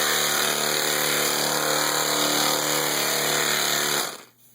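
A large older air-powered body sander runs off a compressor, a loud, steady, harmonic whirring hum held for about four seconds before cutting off abruptly.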